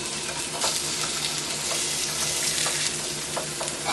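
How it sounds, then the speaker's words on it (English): Salmon fillets frying in sesame oil in a hot pan, giving a steady close sizzle with faint crackles and small pops throughout, with no talking. "now I'm going to add my salmon to this pan"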